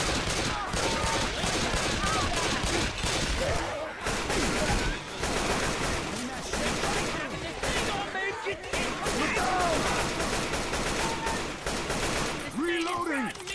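Constant gunfire from a zombie shootout in Left 4 Dead 2, rapid automatic bursts and single cracks piling up over nearly fourteen seconds, loud and close, with players shouting to each other amid the shots.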